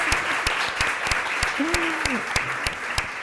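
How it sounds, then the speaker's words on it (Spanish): Applause from an audience at a literary panel event, a steady bed of clapping punctuated by regular loud, sharp nearby claps, with a short voice-like tone rising briefly in the middle. "También un fuertísimo aplauso para Ana, por supuesto."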